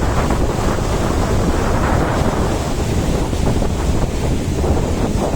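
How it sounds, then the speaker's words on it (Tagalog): Loud, constant roar of wind and rushing water buffets the microphone, like heavy surf around a moving boat off Dinahican, with no voices. "kaya malaki ang alon"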